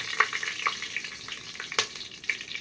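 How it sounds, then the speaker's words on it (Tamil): Whole biryani spices such as cinnamon and fennel crackle as they temper in hot oil in a pan, a steady close sizzle dotted with a few sharp pops and spoon scrapes, with no voices. "பிரியாணி மசாலா தாளிச்சுக்கிறோம்"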